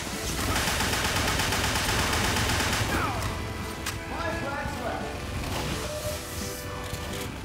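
Rapid nail gun fire in the first-person shooter Open Fortress, a continuous dense stream of shots and impacts layered with other weapons and game noise throughout.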